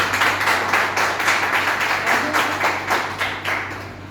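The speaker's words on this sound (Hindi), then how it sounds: "आप सभी के लिए जोरदार तालियां होनी चाहिए।" An audience claps together at an indoor gathering, a dense, steady patter of many hands that carries on at fairly even loudness for several seconds and tapers slightly at the end, with no talking over it.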